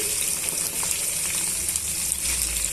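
Finely chopped broad beans frying in a pan for a savoury tempering, a constant loud close sizzle with no talking.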